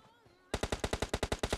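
MK rifle in PUBG Mobile firing a steady burst of about ten loud, evenly spaced shots after a brief quiet moment, close and alone with no talk.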